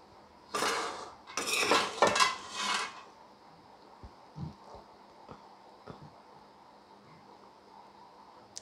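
A spoon scrapes and clinks against a pot while homemade boondi sweet is served, with a close, loud burst of scooping in the first few seconds, then a few faint, sparse taps.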